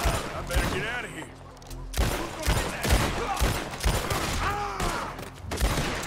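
Dual-wielded pistols fire in rapid repeated volleys during a Red Dead Redemption 2 gunfight, loud sharp shots in quick irregular bursts, with voices speaking over parts of the shooting.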